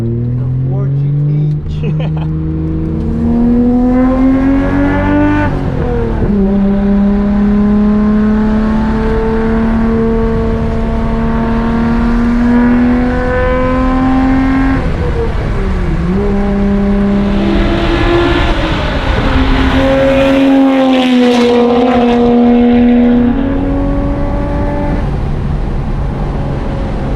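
A Nissan Skyline GT-R drives on a race track, its engine loud and close, revving up through the gears in repeated rising sweeps, with brief dips at each shift and a strained high-rev stretch near the end.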